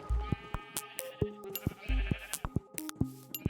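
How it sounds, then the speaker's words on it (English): Sheep bleat in the Minecraft video game, several short wavering calls overlapping in quick succession amid other game sounds, fairly soft with no talk. "Busy yourself by counting those sheep"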